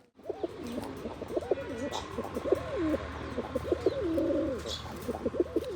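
Pigeons coo steadily and close by in low, rolling, repeated calls that carry through the whole stretch, with a few faint higher chirps above.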